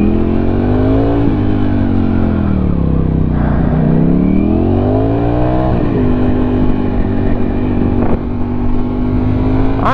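A motorcycle rides in heavy road traffic, its engine loud and close, droning steadily with rising and falling pitch as it speeds up and slows, amid wind rush and passing vehicles.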